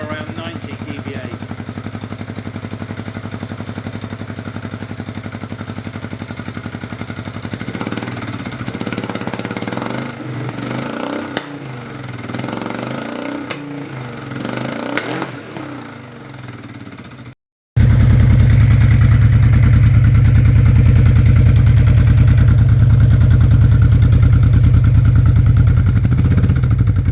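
Honda Bros motorcycle fitted with a Fuel F1R exhaust: the engine idles with some mechanical clatter, then after a short gap comes back much louder with a deep, steady exhaust rumble, close to the microphone.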